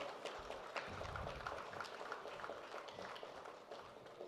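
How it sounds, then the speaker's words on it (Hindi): An audience at a media group event applauds the CEO and managing editor Pawan Arora, steady crowd clapping that stays faint and distant throughout. "जोरदार तालियां पवन सर के लिए"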